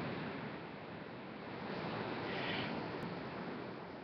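Steady broadband wash of ocean waves on a Costa Rica beach, a continuous roar with gentle swells and some wind, no voices.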